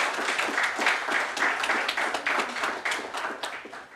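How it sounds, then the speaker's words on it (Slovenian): An audience claps steadily at an award ceremony, with clear, closely packed hand claps holding a fairly even level throughout. "Lahko damo kar en aplavz."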